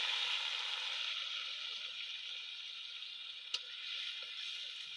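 Soft, steady sizzling of food frying in a pan, continuous and fairly quiet, with a single brief click partway through.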